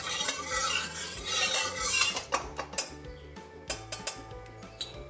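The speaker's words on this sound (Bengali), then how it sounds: "এবার প্রয়োজন মতো আমি সর্ষের তেল দিয়ে দিলাম" Mustard oil hisses into a hot pan for Bengali keema ghugni, a dense sizzle that fades into a run of sharp metal spoon scrapes and clinks against the pan.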